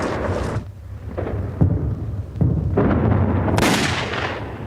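A rapid series of heavy bomb blasts and rumbling detonations from a WWII air raid on aircraft at Clark Field in the Philippines, several booming bursts in close succession with no speech.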